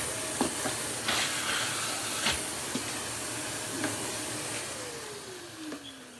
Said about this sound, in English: if we take our lovely Victor V9 here and pop it up this hose, it's not clogged